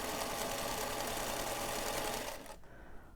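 Sewing machine hums in a steady fast whir as it stitches a seam on a quilt insert panel, then stops near the end, leaving a quieter background.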